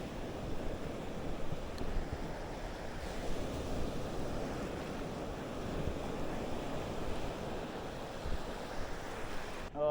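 Sea waves wash continuously onto the shore during shore casting, a steady broadband surf roar with some wind noise against the microphone, moderately loud and with no voices.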